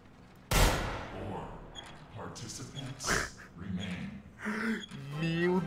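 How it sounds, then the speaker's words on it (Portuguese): Gunfire in the Roblox horror game The Trails, one sharp loud shot followed by quieter game sounds, with players talking and reacting over it. "O cara tomou ali um tiro, velho."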